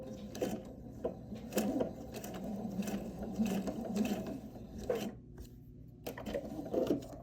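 A sewing machine stitches a rope bowl in short bursts, its close mechanical whir stopping and starting with small pauses as the coiled rope is turned and fed.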